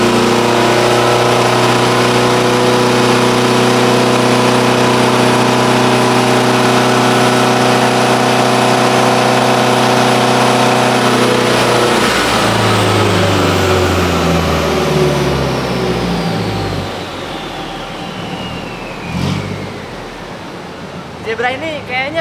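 A Daihatsu Zebra Turbo engine on a dyno holds a loud, steady high-rev drone, then winds down through falling pitch into rougher idling and brief blips, with voices mixed underneath.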